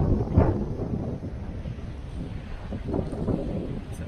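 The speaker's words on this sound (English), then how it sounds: "Still a bit blustery this morning." Blustery morning wind at a coastal van campsite buffets the microphone with a continuous loud rumbling roar that swells and eases in gusts throughout, with no voices heard.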